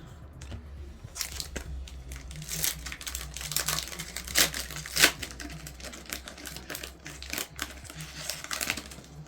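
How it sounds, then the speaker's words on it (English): Yu-Gi-Oh Rush Duel Galactica of Eternity card packs shuffled by hand, giving a steady run of crisp, close crinkling and snapping bursts with no talk. "Maybe I should just start shuffling my packs."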